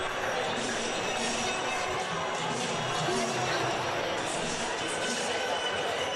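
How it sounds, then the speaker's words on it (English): Steady murmur and rustle of an energetic crowd of fans in a gym during a boys' varsity high school basketball game, a constant wash of distant voices and movement with no distinct cheers. "pretty good crowd, pretty energetic crowd"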